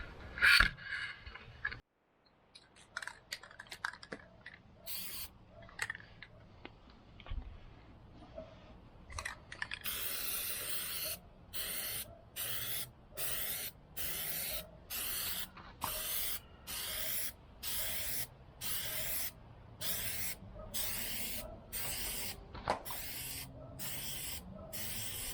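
A Plasti Dip spray can lays a coat over a car badge in repeated short hissing bursts, about a dozen evenly spaced sprays after some quiet rattling and clicks, close and clear with no talk.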